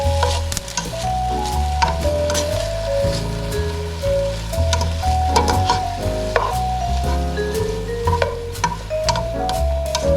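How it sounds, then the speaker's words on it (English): Salmon sizzles steadily in a pan over low heat, with a close, constant frying hiss and occasional scraping knocks as the fish is stirred and tossed. "occasionally you want to kind of stir it,"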